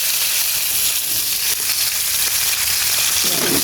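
Chicken breast frying in a pan with garlic, a loud, steady, dense sizzle that fills the whole moment without a break.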